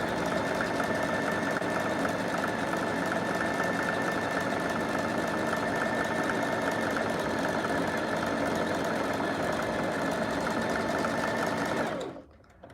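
A sewing machine runs steadily for about twelve seconds, double stitching scrunchies with a fast, continuous mechanical whir, loud and close, then stops abruptly near the end.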